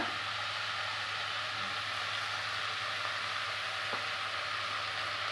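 Curry leaves and turmeric hit hot oil for a stuffed brinjal gravy, giving a loud, constant sizzle and hiss that holds steady throughout, with a faint low hum underneath.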